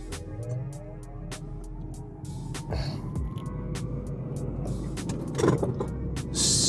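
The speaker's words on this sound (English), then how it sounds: "Super quick acceleration." Lucid Gravity electric SUV launching hard in launch mode, a rising electric motor whine layered over road and tire roar that grows steadily louder, heard from inside the cabin.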